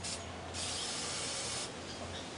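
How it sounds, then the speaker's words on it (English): Short bursts of spray paint hissing onto a 3D-printed dinosaur, two close, loud sprays separated by a brief pause. "Pre-spray, always pre-spray, right?"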